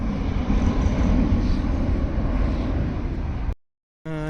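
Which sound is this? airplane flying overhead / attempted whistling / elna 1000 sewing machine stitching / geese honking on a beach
airplane flying overhead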